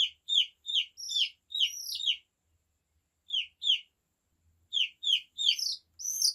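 Loud, high-pitched peeps from a meat chicken chick during a bath come in quick repeated bursts, pausing briefly before starting up again, close and insistent.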